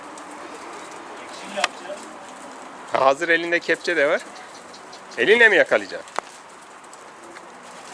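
Pigeons near a coop let out two bursts of cooing with wing flutter and rattling, close and fairly loud, while people talk excitedly before and between the calls.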